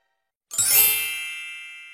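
A single bright bell ding used as a notification sound effect rings out sharply after a brief silence, then decays with a long shimmering tail, heard alone.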